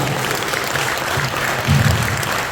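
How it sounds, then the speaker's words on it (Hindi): Steady applause from a crowd at a Hindi poetry gathering fills the whole stretch, dense and even, with no voices standing out. "आपकी तालियों की आवाज और चेहरे का एक्सप्रेशन मैच नहीं करता है।"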